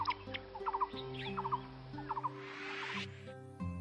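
Baby birds cheep to their mother for food in short chirping bursts, repeated several times over a steady tonal musical background.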